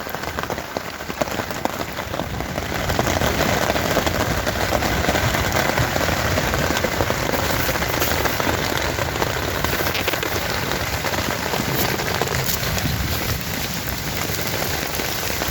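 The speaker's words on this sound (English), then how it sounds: "I'd say rain, go away" Steady, heavy rain pours down continuously, a dense hiss of drops hitting surfaces, close and loud throughout with no voices.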